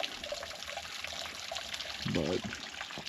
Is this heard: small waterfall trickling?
yes